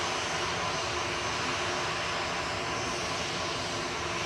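An easyJet airliner just in from Alicante at Manchester Airport sends out a distant, even engine hum that holds steady and faint for the whole stretch, with no one speaking.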